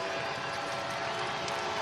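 A loud basketball arena crowd roars continuously at the HTC Center during a college game, a dense sustained wall of cheering with no distinct breaks.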